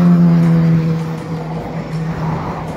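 Morning commuter traffic on a road heading into the city, a steady close car engine hum with a strong low drone that eases slightly, then continues as passing vehicles roll by.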